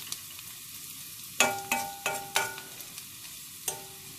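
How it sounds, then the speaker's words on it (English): Curry leaves and spices stirred in hot oil for a broad bean curry, giving a series of sharp crackling spits and clinks, about five distinct bursts over a quiet background with no talking. "Our curry leaves. Just mix it all in."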